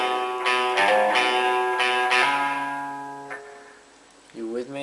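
Electric guitar runs through the opening of a riff, picked notes and a quick hammer-on ringing out close and clear, then fading before a few more notes at the end.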